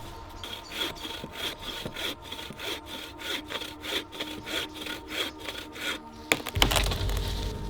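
Handsaw cutting firewood in a forest clearing, with a fast, even rhythm of close rasping strokes through the wood and a louder rustle or crack at the end; no one speaks.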